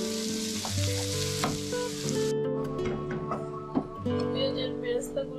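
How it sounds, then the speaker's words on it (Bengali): Onions frying in oil until browned hiss with a soft, steady sizzle and occasional stirring clatter, partly masked by background music with clear sustained tones. "পেঁয়াজটা বেরেস্তা করে নেব,"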